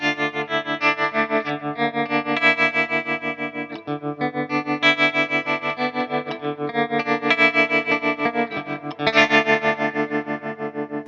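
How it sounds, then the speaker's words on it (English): Electric guitar through reverb and a JHS Harmonic Trem tremolo pedal, sustained chords pulsing in a steady rhythmic throb, loud and alone with no talking. "Here's where a tremolo could make a huge difference."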